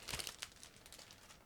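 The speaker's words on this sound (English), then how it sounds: "Now I'm opening another plastic bag." A plastic bag of parts from an Eduard 1/48 P-51D-10 Mustang model kit crinkles and tears open nearby, with a burst of sharp crackling early on that settles into softer rustling.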